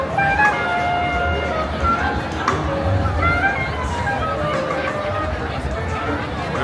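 Dense crowd chatter fills a busy jazz concert, many voices blending into a steady, loud hubbub with occasional nearer voices standing out.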